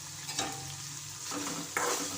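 Maggi noodles cooking in a pan with Maggi masala, red chilli and coriander-cumin powder give off a quiet, even sizzle, with two brief bursts of stirring scrape.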